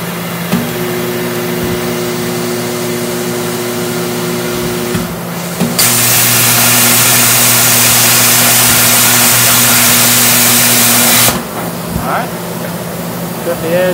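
A plasma cutter slices through quarter-inch stainless steel while an electric generator drones steadily; the cutting hiss comes in as a loud, sustained broadband roar for several seconds in the middle, then stops, leaving the generator running.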